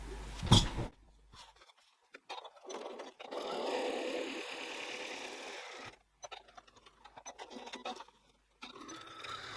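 A sewing machine topstitching a second line along a tote bag edge, a short whirring run of stitches that starts and stops between quiet gaps, close and fairly soft, with no talking.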